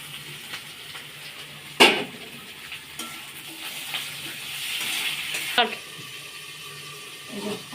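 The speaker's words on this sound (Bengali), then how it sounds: "পেঁয়াজটা ভাজা হয়ে গেছে" Onions fry in a pan with a soft, continuous sizzle, broken by a couple of sharp utensil clinks against the pan, while a voice is faintly present nearby.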